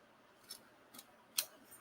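Scissors snip through a piece of material being trimmed away from a handmade hinge, giving a few short, quiet cuts spaced apart, the sharpest one near the end, in a hushed room with no talking.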